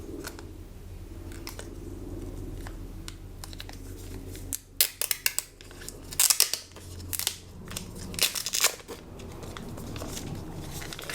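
Plastic film and packaging being torn and peeled off a TCL 10 5G UW phone, with crinkly rustling bursts and sharp rips clustered in the middle, close and fairly quiet under a steady background hum.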